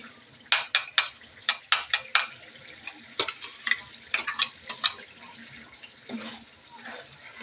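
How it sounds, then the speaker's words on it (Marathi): A spinach curry frying in a pan sizzles after water is added, with a quick series of sharp spatula strikes and scrapes, then a softer bubbling hiss near the end. "आता टाकू आपण पाणी"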